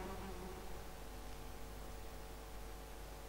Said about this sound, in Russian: Мухи летают, блин.